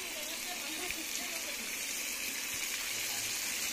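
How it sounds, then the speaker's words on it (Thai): Frogs fry crisp in hot oil in a small wok, giving a steady, close hiss and crackle with occasional soft pops, and nothing else cuts through. "ทอดกรอบ ให้สีออกเหลืองๆดูน่ากินนะครับ"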